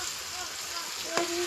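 Pasta cooking in a pan gives a steady, soft sizzle and bubbling that runs throughout, with a brief clink near the end, set against faint household background.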